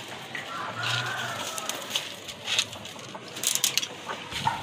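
Pigeons coo and flutter close by while pecking and scuffling at millet, with soft patter and rustling throughout.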